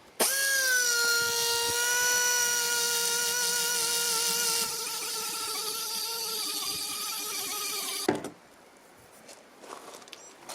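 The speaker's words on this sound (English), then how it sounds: "I'm polishing the exhaust ports. I'm going to use this tool." A high-speed rotary tool with a sanding drum whines steadily at a constant pitch, shifting slightly as it grinds the exhaust ports of a Yamaha RZ350 cylinder, then spins down and stops, leaving faint handling noises.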